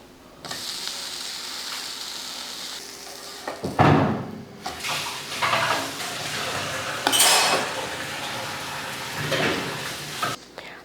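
A dosa is flipped on a pan with a metal spatula, making several bursts of scraping and clanking against the pan, loud and close, separated by quieter sizzling gaps.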